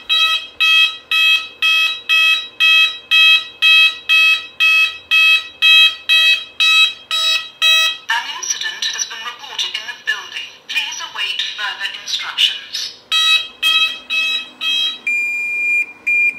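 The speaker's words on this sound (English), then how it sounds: "What does signal 2 or 1 sound like with voice again? Sounder 1, 2, action signal." A Gent Vigilon fire alarm system's sounders signal in sequence, first a loud, steady, rapid pulsing tone, then a warbling sweep and another pulsed pattern, close and dominant.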